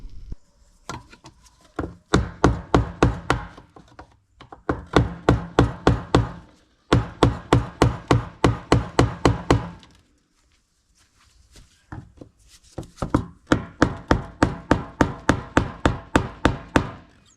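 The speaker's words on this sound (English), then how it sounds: "So I'm gonna go ahead and whack on that a couple times, get this lock ring out" Repeated metal-on-metal whacks of a hammer on a screwdriver or chisel, driving out the fuel pump lock ring on a 2015-2019 Chevy Tahoe or GMC Yukon. The blows come in four quick rhythmic bursts of about a dozen strikes each, loud and close, with short pauses between.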